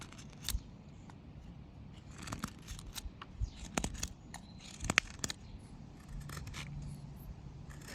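A knife carving wood while whittling a shark figure, with sweeping cuts removing excess stock: repeated close scraping and slicing strokes in irregular bursts, some sharper, no talking.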